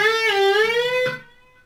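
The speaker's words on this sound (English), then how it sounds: "And now we're going to bring it up two whole steps." A single sustained electric guitar note bent upward two whole steps and held, ringing brightly before fading out.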